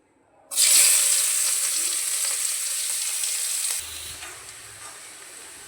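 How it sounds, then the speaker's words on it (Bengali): Loud, steady sizzle as chopped onions hit hot oil, a bright crackling hiss that settles slightly quieter partway through, with a faint low clunk near the end. "এবার ওই তেলের মধ্যেই দিয়ে দেবো কিছুটা পেঁয়াজ কুচি বেরেস্তা বানানোর জন্য।"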